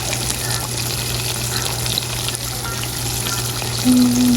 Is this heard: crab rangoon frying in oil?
yes